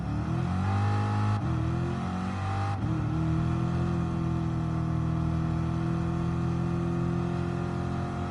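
A race car engine in Gran Turismo Sport drones loudly and steadily at high revs on hard tyres, briefly dipping twice in pitch as gears shift before holding a sustained howl, with no voices.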